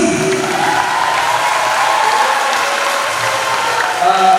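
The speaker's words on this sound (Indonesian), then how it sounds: "Tepuk tangan untuk Kak Sherly." An audience at a youth seminar in an Islamic boarding school applauds for Kak Sherly, a loud sustained wash of clapping with some cheering voices mixed in and talk faintly underneath.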